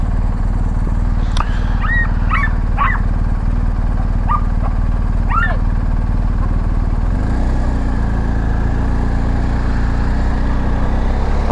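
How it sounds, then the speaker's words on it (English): A dog yelps and barks in a few shrill, scream-like bursts over the steady rumble of an idling BMW GSA 1250 motorcycle, the barking fairly clear but not dominant, then the engine note shifts lower near the end. "That dog sounded like a human being screaming."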